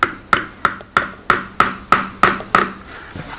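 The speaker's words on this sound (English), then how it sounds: "I'll tap them in with the hammer" A hammer taps pins into wood during a filler repair job, eight sharp evenly spaced knocks in quick succession, close and distinct.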